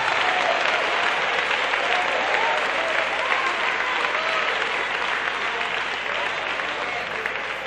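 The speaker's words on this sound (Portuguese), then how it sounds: "E eu quero ouvir palmas misturado com glória a Deus." Sustained applause from a large congregation filling a church, steady and loud for the whole stretch, with faint voices mixed in.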